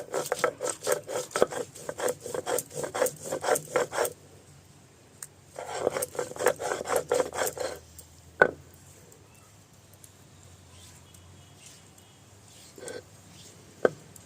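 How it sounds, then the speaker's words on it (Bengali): Whole cumin, coriander and other spices being ground together into a paste, close rhythmic scraping and grinding strokes in bursts, then a pause with a few scattered knocks, no talking. "সব একসাথে বেটে নিচ্ছি"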